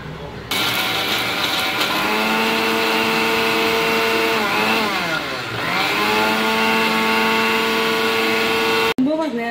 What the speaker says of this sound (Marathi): हा पूर्ण मिक्सरला फिरून आपण वाटण करून घेऊ याचा.